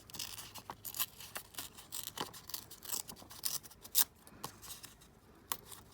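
Paper torn by hand for a junk journal cover, a string of short close ripping and crinkling bursts in an irregular rhythm, no voices.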